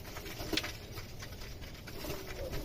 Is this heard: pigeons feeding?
yes